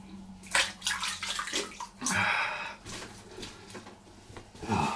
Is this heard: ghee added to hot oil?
no